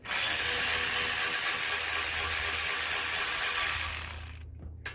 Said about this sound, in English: power ratchet thing, super nice for undoing the intake hose clamps and the V-band clamps